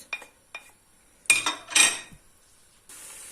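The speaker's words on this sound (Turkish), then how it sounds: "soğanımızı karıştırarak güzelce kavuruyoruz." A spoon scrapes and clinks against a pan a few times in short bursts while stirring chopped onion in oil, with a soft sizzle rising near the end.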